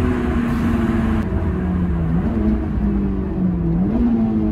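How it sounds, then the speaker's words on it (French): A stock Honda S2000 engine revs hard toward its 9000 rpm limiter, producing a loud, steady high-pitched wail whose pitch rises and dips several times as it bounces near the limiter inside the car. "rupteur atteint"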